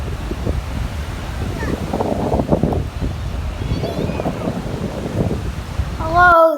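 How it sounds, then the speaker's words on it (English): Strong wind at the beach buffets the microphone in loud gusty rumbles, with surf faintly underneath, and a brief squeak at the very end. "It is super windy today"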